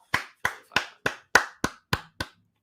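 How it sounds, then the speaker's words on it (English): A few hands give a slow golf clap: eight crisp, evenly spaced claps, close and alone, with no talk. "Golf clap for the guys"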